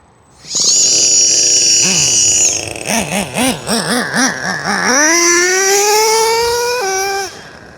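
A Traxxas Revo RC car with an OS 21 nitro engine starts up and runs, a loud high-pitched whine that pulses and warbles at first, then climbs steadily in pitch as it revs and holds, with no talk.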